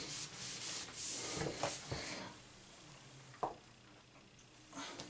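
Candlepin bowling balls being rubbed clean with rubbing alcohol, a soft steady scrubbing and wiping texture with a few brief knocks, close and fairly quiet.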